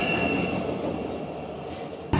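A Garib Rath Express running from Agartala to Kolkata fills the carriage with a steady, loud rumble and rolling wheel noise, broken by a brief sharp jolt at the very end; no one speaks.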